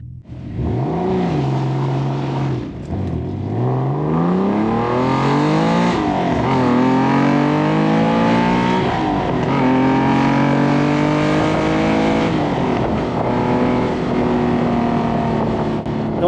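A TVR Tuscan sports car pulls away from an intersection, its loud engine revving up through repeated rising sweeps with brief dips between gear changes, close and continuous with no talking.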